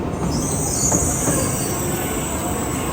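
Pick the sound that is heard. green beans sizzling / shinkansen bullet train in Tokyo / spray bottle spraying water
shinkansen bullet train in Tokyo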